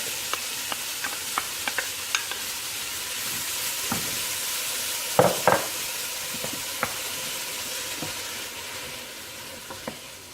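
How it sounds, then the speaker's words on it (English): Leeks, onions and garlic sautéing over medium heat in a pot, a soft steady sizzle with scattered clicks and a few sharper utensil knocks near the middle, fairly quiet and close. "we're going to saute these till they're soft"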